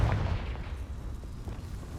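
A Confringo blasting spell cast in Hogwarts Legacy, an opening boom that tails off into a low rumble, fairly quiet overall.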